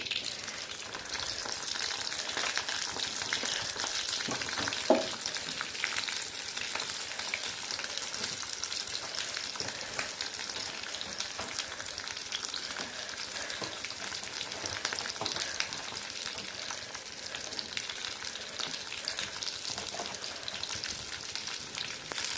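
Broccoli fries in hot oil in a pan, producing a steady, close crackling sizzle that runs unbroken throughout, with no voices.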